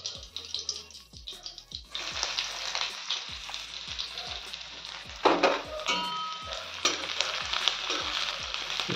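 Food sizzles in hot oil in a kadhai, a steady bright frying hiss that swells after the first couple of seconds, with soft, regular low knocks running underneath.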